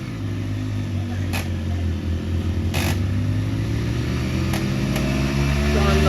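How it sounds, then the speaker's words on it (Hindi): Modified Royal Enfield Bullet motorcycles idle and rev outdoors as one tows another, a steady low engine thrum with shifting harmonics that swells slightly toward the end, loud and close throughout. "तो भाइयों ये देखो जोरदार शानदार टोचन देखो भाई मोटरसाइकिलों के बीच।"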